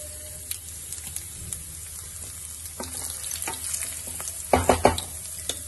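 Garlic and broken red chillies fry in hot oil with a steady crackling sizzle, quiet at first, then a few loud scraping stirs near the end.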